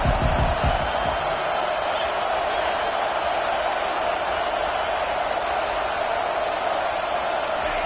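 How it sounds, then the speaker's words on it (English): A football stadium crowd roars during a college game's third down, making a dense, sustained wall of cheering and noise that fills the whole stretch at steady loudness. "Decibels rising as the crowd gets behind this defense on third down."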